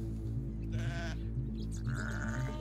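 Sheep bleating in a pen on a farm where lambs were killed by a puma, with drawn-out wavering calls over a steady low hum, loud and close.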